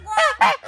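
A farmyard goose guarding its home honks aggressively in two loud, harsh, nasal blasts close by, with a shorter third honk trailing off.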